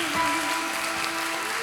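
A church congregation applauds during an anniversary service, a dense steady wash of clapping under sustained organ or keyboard tones, with no distinct voices.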